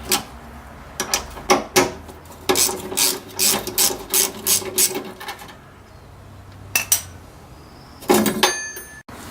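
Hand ratchet clicking in quick bursts as it backs out the single bolt on a fill tube bracket under a jacked-up 1985-97 Mustang GT fuel tank, close and loud, with pauses between strokes and no talk.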